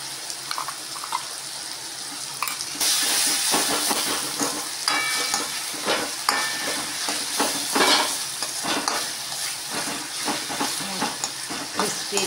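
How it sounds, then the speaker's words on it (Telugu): Ginger-garlic paste and tomato frying in a pan for mushroom curry, a continuous close sizzle with stirring scrapes layered on top, growing louder partway through and staying steady. "క్రిస్పీగా బాగా ఫ్రై అవుతుంది,"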